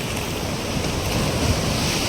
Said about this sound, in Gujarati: અટાણે થોડોક તોફાને છે દરિયામાં